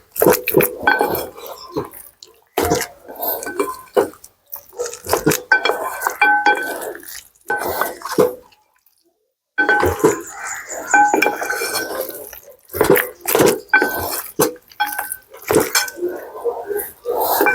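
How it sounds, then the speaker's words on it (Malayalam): Tapioca and beef biryani is stirred in a pot in a Kerala-style kitchen. A spoon scrapes and clinks against the metal in irregular bursts, close and fairly loud, with wet mixing sounds and a brief pause midway. "കപ്പ ചെയ്തോടെ ഒന്ന് മിക്സ് ചെയ്തെടുക്കാം."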